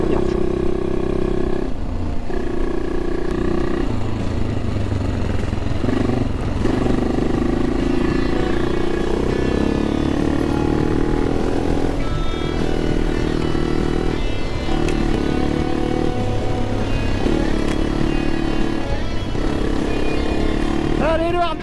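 Motorcycles fitted with foam inner tubes ride a rough trail in Auvergne during the Hard Défi Tour, engines droning loudly and steadily with repeated rises and falls in revs, plus clatter, heard close throughout.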